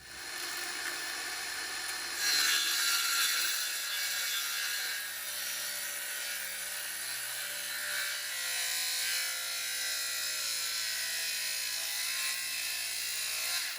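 A saw cuts through a wooden board for a screech owl nesting box, with a steady, continuous rasping drone that holds for the whole stretch, close and fairly loud, with no talking.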